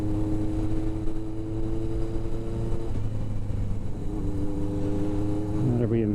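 A Yamaha XS1100 motorcycle engine drones steadily under way, its pitch dropping briefly at a gear change and then settling again, with a brief rise near the end; close, continuous and moderately loud.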